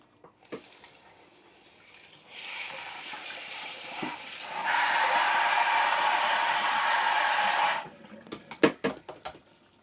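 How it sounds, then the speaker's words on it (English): Tap water runs steadily over fruit being rinsed in a kitchen sink, the flow growing louder partway through before cutting off, followed by a few clattering handling knocks. "Give these a quick rinse again."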